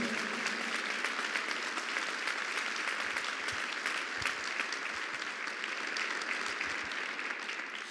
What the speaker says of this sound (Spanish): Cuántale un aplauso al Señor.